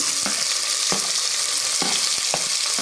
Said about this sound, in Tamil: இப்போ நம்ம கட் பண்ணி வச்சுக்கிற வெங்காயம் போட்டுக்கலாம்